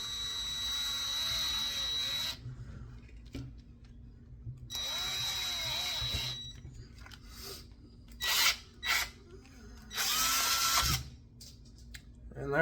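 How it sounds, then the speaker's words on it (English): A power drill bores a second hole in several bursts, each a loud high whine or grinding rasp lasting a second or two, separated by quiet pauses and a few shorter scraping spurts. "Alright, so I got my first hole drilled."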